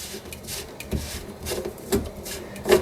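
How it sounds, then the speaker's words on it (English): A drain pipe on a garbage disposal under a sink is unscrewed by hand, with soft close rubbing and scraping turns coming in short uneven bursts. "we're going to want to try to remove this little drain pipe that comes out of the unit. So we're going to unscrew this part first"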